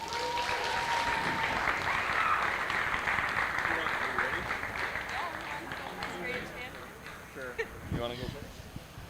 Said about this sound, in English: Let's give these 2 one more round of applause.